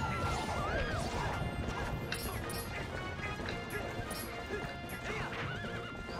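Horse neighing and whinnying amid galloping hoofbeats and crashing impacts in Legend of Zelda: Twilight Princess, a steady busy game mix with repeated rising whinnies over continuous hoof clatter.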